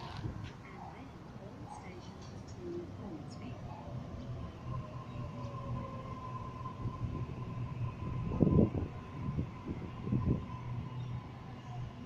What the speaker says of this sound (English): this is my train over here, A17, arriving for a Hornsby service